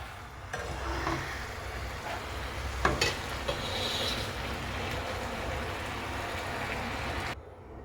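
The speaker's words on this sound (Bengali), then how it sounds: "তো এটাকে আমি নাড়াচাড়া করে খুব সুন্দর করে একটি ডো রেডি করে নেব" Dough being stirred in a hot wok gives a steady, close scraping and soft sizzling that runs almost continuously, with a couple of sharper knocks of the utensil against the pan.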